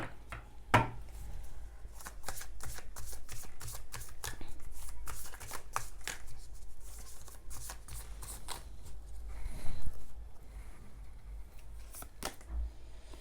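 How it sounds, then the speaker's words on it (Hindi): Tarot cards being shuffled close by, with repeated crisp riffles and flicks in irregular bursts and a few soft taps, with no talking. "और भी कुछ कार्ड्स लेते हैं।"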